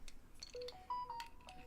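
A phone sounds a short, faint melodic ringtone of a few quick tonal notes in a quiet room.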